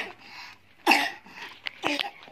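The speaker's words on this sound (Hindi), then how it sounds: "मुझे बहुत खांसी हो रहा है" Coughing from someone playing with and packing up toys indoors: two sharp, loud bursts about a second apart, separated by quieter breathy sounds.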